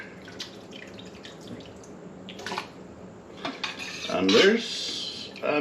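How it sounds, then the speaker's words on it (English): Clattering and clinking of jalapeno peppers dropped into a blender, getting louder toward the end, with sharp knocks and rattles in a quiet room. "now we're going to start putting it into the blender"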